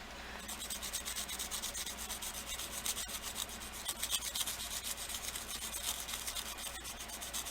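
Fine-grit wet-dry sandpaper rubs against polymer clay in quick, close scratchy strokes, a steady raspy swishing with no talking.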